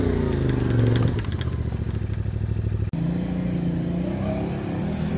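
KTM 950 SE V-twin motorcycle engine revving up loudly nearby, then settling into a rough, clattering idle after a sudden cut, with a voice talking faintly in the background.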